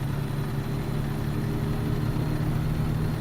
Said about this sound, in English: One of the best OG engine sounds still.